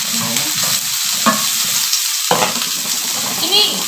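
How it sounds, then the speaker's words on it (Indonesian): Garlic, shallots and onion sauté loudly in a pan, with a bright, close sizzle under repeated scraping and knocking strokes of a spatula stirring the mix. "Tisa akan tumis sekarang ya teman-teman."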